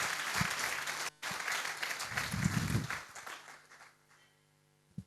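An audience at a camp speech in Yercaud breaks into applause, a dense burst of clapping lasting about three seconds after a brief pause, then fading to quiet with a small knock at the end.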